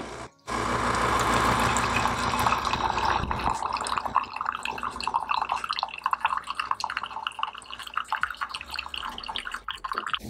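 A pod coffee maker dispenses a 10-ounce pour of SF Bay compostable pod coffee, with a steady, close pumping hiss that gives way to a trickling stream of drips into the cup.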